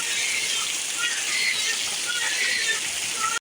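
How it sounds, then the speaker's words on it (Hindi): Heavy rain pours down steadily in a dense, unbroken hiss close by, with no voices over it, then cuts off abruptly at the end. "बारिश बहुत ज़्यादा हो गई है"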